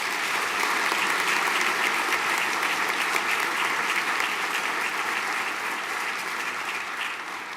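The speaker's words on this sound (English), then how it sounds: "A round of applause, please." Sustained audience applause at a senior school prizegiving, steady and dense with many hands clapping at once, holding at even strength before easing slightly toward the end.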